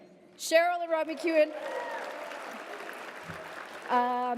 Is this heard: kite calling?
no